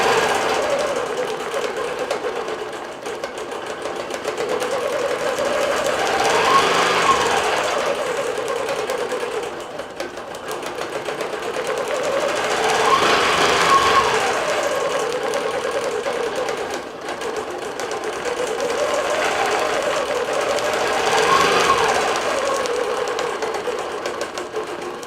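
Longarm digital quilting machine stitching a spring lap quilt with a bellflower design, a fast steady mechanical hum of rapid needle strokes that swells and eases in long cycles as it travels, close and continuous.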